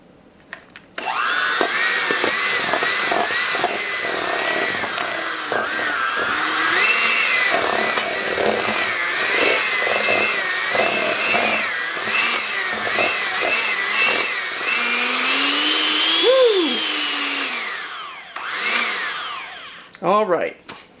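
A high-pitched electric mixer whirs steadily through quick bread batter, its motor pitch wavering as the beaters work, loud and close, then cuts off near the end with a few brief knocks.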